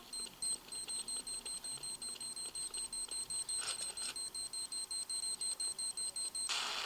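A planted bomb in Counter-Strike Nexon: Zombies ticks with steady, rapid electronic beeping on and on, evenly spaced and moderately loud, with a brief burst of noise near the end.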